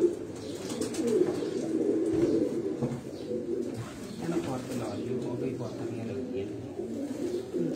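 Rooftop pigeons in Gujrat, Pakistan coo in a low, continuous murmur, with a voice talking faintly over them throughout.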